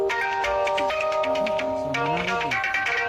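A mobile phone rings with an incoming call, a melodic electronic ringtone of steady tonal notes playing loud and close throughout.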